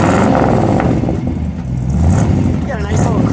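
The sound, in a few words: 1955 Ford Fairlane Crown Victoria engine revving, dual exhaust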